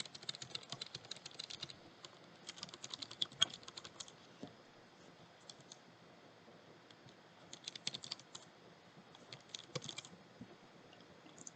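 Fingers type on a computer keyboard in quick, uneven bursts of close, crisp key clicks separated by short pauses, with no talking.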